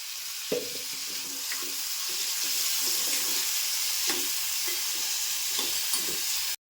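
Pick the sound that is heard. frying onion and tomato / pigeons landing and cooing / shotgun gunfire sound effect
frying onion and tomato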